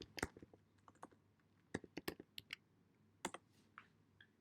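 Irregular clicking of keys on a computer keyboard, typed in short bursts with pauses between strokes, close and fairly quiet with no voices.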